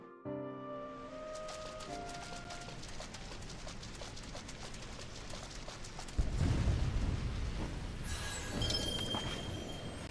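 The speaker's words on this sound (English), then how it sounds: "Yeah, that was a big explosion." A huge explosion in Final Fantasy XIV: a tonal music-like opening gives way to a sustained roaring, crackling blast that swells with a deep rumble midway, then bright shimmering debris over the final seconds.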